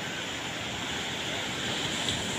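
Sea waves wash onto a beach in a constant soft surf hiss, mixed with light wind noise, fairly faint and with no speech.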